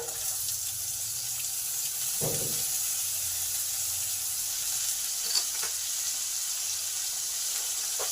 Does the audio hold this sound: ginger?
yes